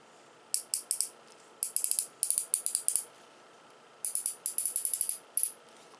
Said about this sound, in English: 3/8, which I still find useful in this style of ratchet.